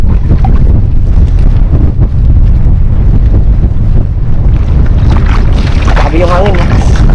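Strong wind buffets the microphone on a small boat out on the water during a mud-crab outing, a constant loud roar and rumble with waves and people talking over it.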